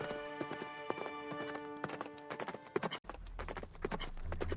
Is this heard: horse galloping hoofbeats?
yes